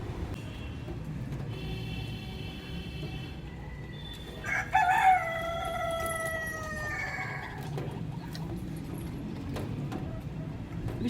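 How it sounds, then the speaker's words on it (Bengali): A rooster crows once, clearly and at moderate distance, a drawn-out cock-a-doodle-doo rising over a steady background hum on a rainy day. "মোরগটা ডাকছে, ও ডাকতেই থাকে কোনো কারণ ছাড়া"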